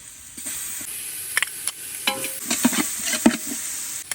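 Chopped onions frying with salt and ginger paste, a close sizzle with bright hiss under repeated scraping stir strokes and occasional clinks of a spoon against the pan, for a Kuzhi Mandhi-style meal.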